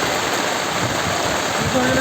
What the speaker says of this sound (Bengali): কিন্তু এখন খুব ভীষণ বৃষ্টি হচ্ছে